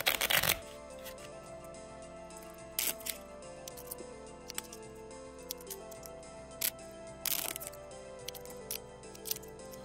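Lenormand cards, a new deck, shuffled by hand in quick bursts of soft riffling and clicking, with a few sharp taps in between over a steady faint background.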